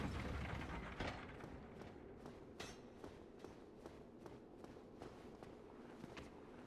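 An elevator mechanism grinding and clicking into motion in Dark Souls Remastered, a steady ratcheting, gear-like clatter with repeated knocks, moderately quiet and alone.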